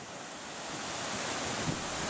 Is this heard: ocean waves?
yes